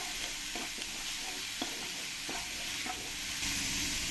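A spice paste with coriander and cumin powder frying in a pan, giving a steady close sizzle with soft stirring scrapes and occasional light clicks throughout.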